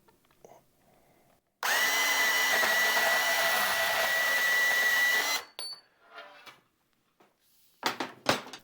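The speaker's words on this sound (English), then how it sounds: "Next I can cut my 6-inch handle." A power tool runs steadily for about four seconds while cutting a 6-inch handle for a hot-wire reel, loud and close, followed by a few scattered knocks and handling clicks.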